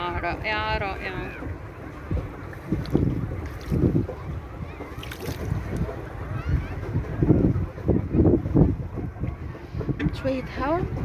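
Wind blowing at Rommel Beach on the Mediterranean shore at Marsa Matruh, buffeting the microphone in gusts alongside waves, with people talking throughout.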